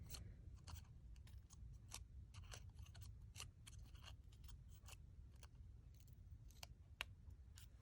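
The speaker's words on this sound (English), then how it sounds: "you're going to cut into the center. So just use a little precision scissors" Small precision scissors snip into the center of a paper cut-out. Crisp, irregular clicks and cuts come close to the microphone, quiet over a low background hum, with no talking.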